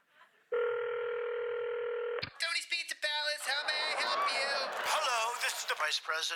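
A run of telephone tones for a phone call, with a steady dial or dialing tone for about two seconds, a click, then busy layered sound with voices talking over it.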